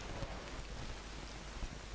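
Rain falls at dawn as a steady, dense hiss with scattered drops, continuous and moderately loud throughout.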